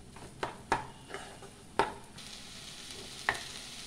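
Bhetki fish pieces being stir-fried in a pan for fish fingers: a soft, steady sizzle broken by about five sharp scrapes and clinks of the spatula against the pan, heard close up with no talking.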